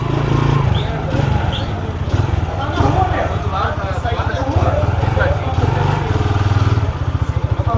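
A Yamaha YBR motorcycle engine runs steadily up close while being parked, its rough chugging continuous throughout, with people talking over it.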